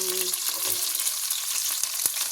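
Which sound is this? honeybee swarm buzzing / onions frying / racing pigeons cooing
onions frying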